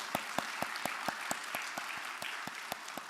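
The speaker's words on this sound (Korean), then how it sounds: "우리를 위해서 한번 박수 한번 하시겠습니다" A church congregation claps together in a steady, even rhythm of sharp beats, fairly faint and heard on its own without talk.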